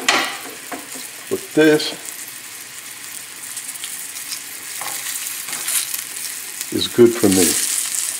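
Salmon filet sticks fry in a pan over a low flame, a steady close sizzle running throughout, with a voice speaking briefly over the crackle near the start and end.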